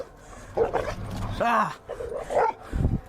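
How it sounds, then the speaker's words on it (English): Aggressive dogs bark and snap at a person trying to pass between them, a few sharp close barks and yips mixed with a man's startled exclamation and other voices. "I can tell by the sound of their bark that they are ready to attack"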